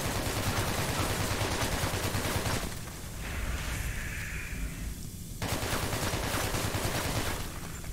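Continuous rapid gunfire in the video game Hatred, dense and loud, drops away briefly midway and then resumes at full intensity.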